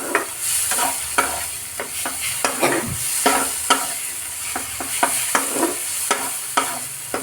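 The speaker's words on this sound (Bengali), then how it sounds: "যতক্ষণ না মশলাগুলো তেল ছাড়বে ততক্ষণ কষাতে হবে।" Spice paste frying in hot oil in a pan while being stirred for small-fish charchari, with a steady sizzle and repeated scraping and clacking strokes of a spoon. The sound is close and continuous, with no talking.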